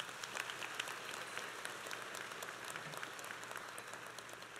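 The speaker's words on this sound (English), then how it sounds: "Give them a round of applause again" A graduation ceremony audience applauds in a steady, even wash of clapping that sounds somewhat distant and faint and continues without a break.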